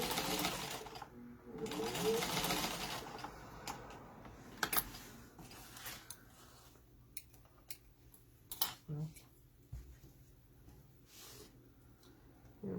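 A sewing machine top stitching 1/8 inch below a card slit on a fabric page-turner project, running in short close bursts with pauses and small clicks between them.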